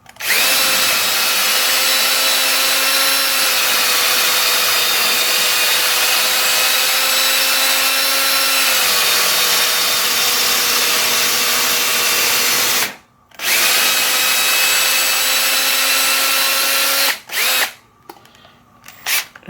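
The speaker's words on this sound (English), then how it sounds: "And so that has drilled through both of them." A power drill bores through two stacked wooden boards for a louvered sliding garage wall, a loud steady whine for about thirteen seconds, a brief stop, then more drilling before it winds down in short bursts near the end.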